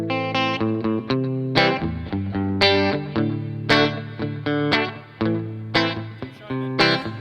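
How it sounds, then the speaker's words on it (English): Electric guitar through a Poly Effects Ample amp modeler with a touch of reverb, a series of plucked notes and chords ringing out with sustained decays, played alone and close. "I'm going to play that with a little bit of reverb. It works with all the amps."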